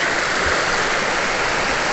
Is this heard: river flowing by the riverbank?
yes